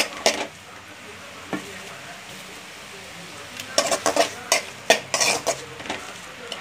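Coriander thokku being sautéed in a pan, a low hiss broken by a few clinks early and then a quick burst of spoon scrapes and knocks against the metal, close and otherwise quiet.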